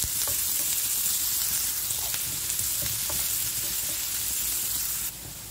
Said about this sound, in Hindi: प्याज को हल्का सॉफ्ट होने तक भून लेंगे।